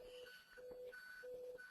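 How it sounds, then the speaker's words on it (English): A trader's risk alarm beeps in a repeating two-tone pattern, alternating low and higher pitched tones at a steady rhythm, faint and alone in the background. "Sorry, that's my risk alarm."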